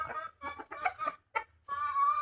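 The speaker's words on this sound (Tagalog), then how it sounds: "nakabuhi man ako mga manok." Chickens clucking close by in short bursts, with a few sharper squawks between brief pauses.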